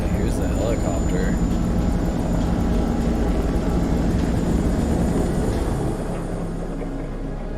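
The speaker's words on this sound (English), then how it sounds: "here's the helicopter." A helicopter in the video game Man of Medan gives a loud, steady rotor drone with low thudding that holds for most of the clip before easing off near the end.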